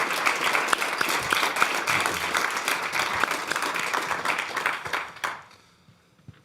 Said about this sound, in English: you also heard from the warm applause